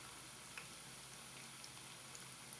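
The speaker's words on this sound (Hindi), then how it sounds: "मीडियम फ्लेम पे पकौड़े फ्राई करें।" Cabbage pakoras fry in oil over a medium flame, giving a steady, soft bubbling sizzle with scattered small pops, heard close but at low volume and with no voices.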